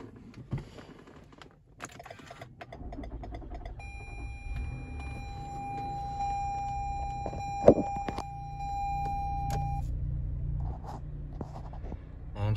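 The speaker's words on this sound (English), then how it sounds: "Try to start the car." A 2019 Toyota Highlander with push-button start fires up after a lost-key reprogramming. A low engine rumble builds and settles into a steady idle while a sustained electronic tone sounds over it for several seconds, with a sharp click partway through.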